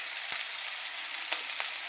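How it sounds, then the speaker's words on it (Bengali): Slit green chillies with a little salt sauté in a pan, giving a bright, even hiss of frying close by, broken by a few faint crackles and ticks. "চেরা কাঁচা লঙ্কা, অল্প একটু নুন দিয়ে ভালো করে কষিয়ে নেব।"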